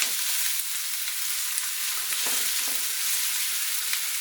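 Chopped onions and garlic sizzle and fry in a pan as the base for a homemade smoky BBQ sauce, a steady close crackle with occasional scraping stirs and no talking.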